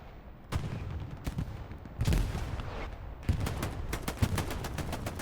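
Rapid rifle and machine-gun fire in the World War II shooter Hell Let Loose, with sharp repeated shots in bursts and a heavier volley, some cracks close and others more distant.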